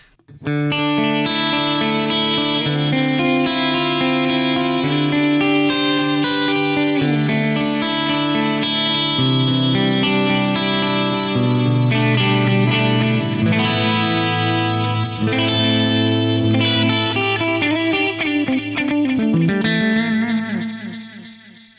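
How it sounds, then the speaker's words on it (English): An electric guitar played through a Line 6 DL4 delay pedal on its multi-head setting modelled on the Roland Space Echo, with a continuous melodic line trailed by repeating echoes, loud and alone without talk. "The multi-head based on the Roland Space Echo, those are probably my favorite out of these vintage echo style effects."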